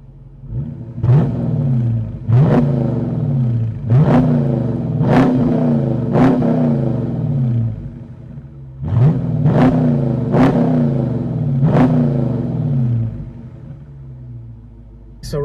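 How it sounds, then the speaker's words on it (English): A 2023 Dodge Charger R/T Hemi V8 revs in repeated sharp bursts, each climbing quickly then dropping back to a deep idle rumble, about ten blips in two groups. "How about we hear that V8 rumble?"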